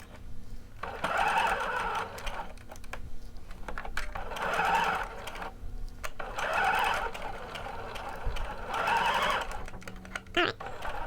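Sewing machine stitching the seams of a pair of McCall's 7908 shorts, running in four steady bursts of whirring needle action separated by short pauses, close and clear with light handling noises between runs.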